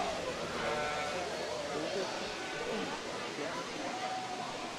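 Sheep bleat at a county livestock show, a wavering nasal call over a busy background of crowd babble and barn noise, with people talking nearby.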